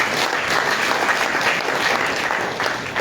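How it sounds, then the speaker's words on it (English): Audience applause at the official release of Liberia's 2022 census provisional results, a steady, dense clapping from a crowd that fills the whole stretch at even loudness with no talk over it. "big clap for them"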